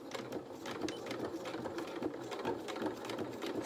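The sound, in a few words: sewing machine sewing a straight stitch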